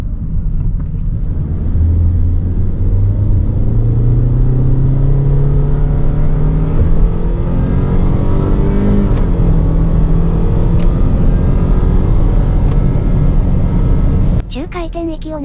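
A Toyota Alphard with the 2.5L gasoline engine pulls hard while merging onto an expressway, its loud engine note climbing steadily in pitch through a sustained run of acceleration, with road and wind roar close in the cabin.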